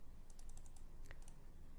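Rapid light clicks of typing on a computer keyboard come in a quick uneven run of keystrokes, faint and close against a steady background hiss, with no speech.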